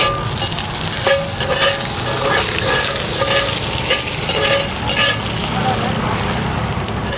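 Garlic and an omelette fry in oil in a cast iron pan, giving a steady, loud sizzle with stirring and scraping across the whole stretch.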